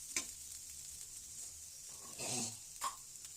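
Meat frying in coconut oil, a faint continuous sizzle with brief stirring scrapes and a short cough partway through, quiet and close.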